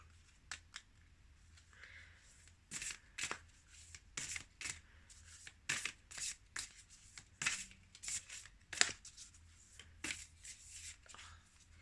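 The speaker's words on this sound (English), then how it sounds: "These are very thick cards, so they don't shuffle as well as the thin tarot" Thick oracle cards are shuffled by hand in repeated short riffling bursts, close and fairly quiet, with brief pauses between each pass and no talking.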